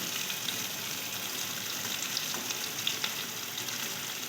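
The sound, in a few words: katla fish fat frying in a wok with little oil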